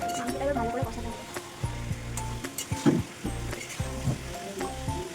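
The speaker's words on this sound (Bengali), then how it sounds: "মাংসটা এবার ভালো করে কষাতে হবে" Chicken sautéing in a pan for pulao, with a steady, close sizzle and crackle running under someone talking throughout, with occasional stirring scrapes.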